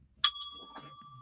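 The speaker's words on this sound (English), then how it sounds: "I got a bell." A small bell struck once with a sharp, bright ding that rings on as a thin fading tone, followed by faint soft handling sounds.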